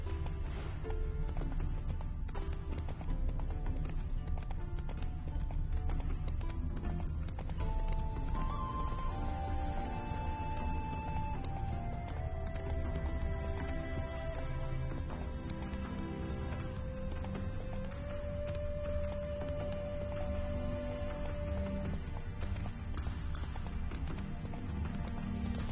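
A horse gallops in The Witcher 3: Wild Hunt, with rapid, continuous hoof clatter under sustained game music that carries drawn-out melodic tones throughout.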